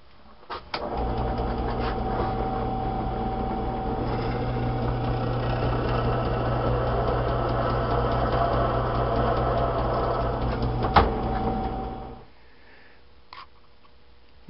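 A steady, loud power drill whirring continuously for about twelve seconds while drilling for knifemaking with 1/4, 3/8 and 1/2 inch bits, then cutting off abruptly, followed by near silence and a couple of faint clicks.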